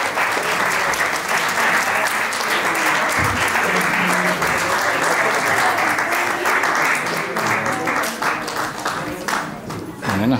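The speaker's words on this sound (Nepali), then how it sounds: "सबैजना उहाँहरूको हौसलाको लागि एक फेरा जोरदार तालीले साथ दिनु होला" An audience at a farewell event claps in sustained, loud applause for about ten seconds, dense and steady, with a voice briefly audible beneath it.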